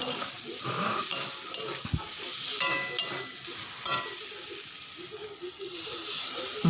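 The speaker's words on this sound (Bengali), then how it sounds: "আমি ভালোভাবে মশলার সঙ্গে আলুটা কষিয়ে নিচ্ছি" Potatoes stir-fried with spices for egg curry give a steady close sizzle, with scraping stirs and small clinks of the spoon against the pan.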